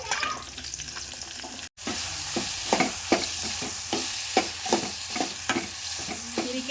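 Ridge gourd goes into a pan of garlic fried golden with spices, hitting a steady loud sizzle and then heard under repeated scraping stirs at an irregular rhythm, close up, with no voices.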